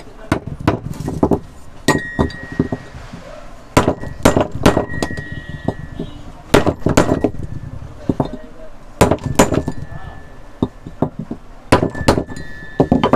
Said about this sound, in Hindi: तो फ्रेंड ये सारा सामान लगाने के बाद हमें जो पाइप इस तरीके से रखना है और थोड़ी सी देना है ठोक इसको।